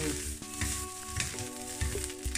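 Onion, carrot and beef fry in a pan for Korean-style beef hye, a busy close sizzle broken by quick repeated scraping strokes of constant stirring.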